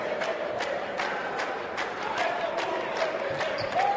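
Dominican Republic fans at a basketball game in Mar del Plata, Argentina, a big arena crowd roaring and chanting in a rhythmic, steady clap-like pulse, with an announcer talking over the din.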